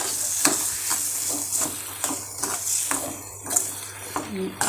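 Tapioca being stirred and mixed in a cooking pot, with repeated scraping and stirring strokes over a steady frying sizzle, close and fairly loud, and no talking.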